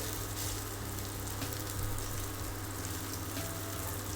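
Meatballs fry in a crowded pan over high heat, giving a dense, continuous sizzle that stays close and even throughout.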